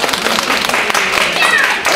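Clapping from the audience at a children's magic show, a dense, loud burst of applause mixed with voices and chatter, continuing steadily.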